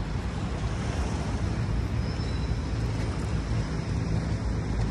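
Waves wash against the shore at Dolomite Beach on Manila Bay, a continuous loud surf wash mixed with wind buffeting the microphone, steady for the whole stretch with no talking.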